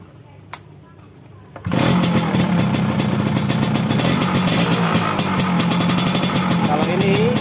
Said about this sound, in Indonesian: Kita coba nyalakan mesinnya dulu.